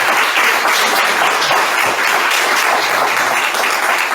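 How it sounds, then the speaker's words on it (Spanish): An audience in a lecture hall breaks into steady, dense applause, many hands clapping loudly and evenly throughout without pause. "un aplauso nuevamente"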